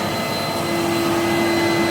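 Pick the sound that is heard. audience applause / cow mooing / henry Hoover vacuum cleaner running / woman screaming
henry Hoover vacuum cleaner running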